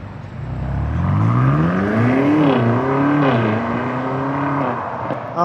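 A 2026 BMW XM Label accelerates with a loud, deep exhaust note that climbs through the revs, eases off, then rises again, close and strong, with a brief burble at the end.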